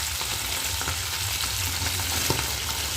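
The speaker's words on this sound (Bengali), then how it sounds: "মাছগুলো এক পিঠ ভাজা হয়ে গেছে, আর এক পিঠে দিয়ে দিচ্ছি।" Fish frying in a hot wok, a dense, continuous sizzle and crackle with a few sharper pops, close and loud throughout with no talking.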